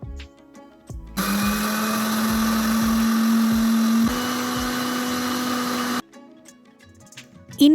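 An electric mixer grinder whirs steadily while grinding soaked finger millet (ragi) with water, a loud continuous motor drone running for about five seconds after a brief start, then cutting off to quiet kitchen noises.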